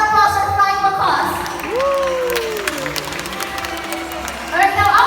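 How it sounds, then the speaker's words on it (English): Crowd at a bird show with flying macaws claps and cheers at a moderate level under voices, while bird calls and squawks rise over the applause. "a round of applause for flying macaws"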